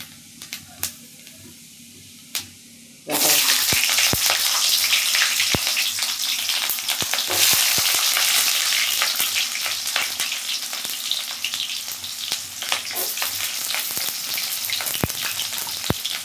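Urad dal is dropped into hot oil for curry leaf chutney. After a few seconds of quiet with faint clicks, a loud, sustained sizzle bursts in and crackles on with scattered pops to the end.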